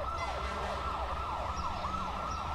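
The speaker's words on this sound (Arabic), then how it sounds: "ايه ده الاسعاف للدرجه دي؟" A wailing ambulance siren sweeps up and down repeatedly over low traffic rumble, steady and moderately distant.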